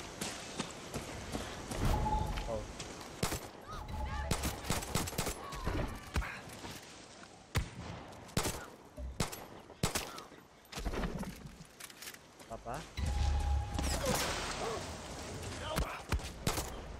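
Gunfire while shooting in Far Cry 6: many sharp shots scattered across the stretch, some in quick clusters, mixed with other game noise and footsteps, and a voice talking between them.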